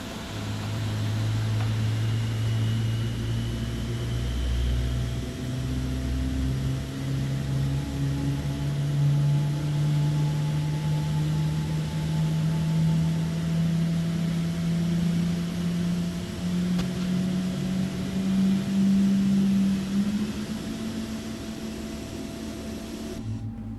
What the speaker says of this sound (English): Alright, we have 2 good engine starts.